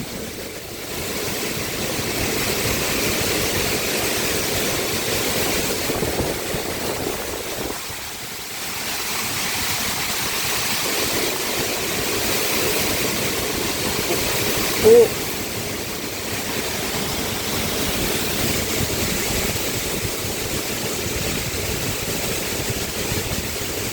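Super typhoon roaring at a coastal river mouth at night, with strong wind and driving rain making a steady, loud broadband rush that dips briefly midway, as people exclaim nearby.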